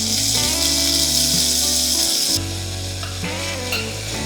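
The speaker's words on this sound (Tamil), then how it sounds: "வெங்காயம் வதங்கும் போதே" Chopped onions and green chillies fry loudly in hot oil for mushroom biryani, a steady bright sizzle with a sharp shift partway as fresh pieces hit the pan, no voices.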